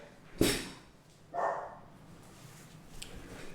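A sharp knock is followed by a single dog bark, then quieter background noise.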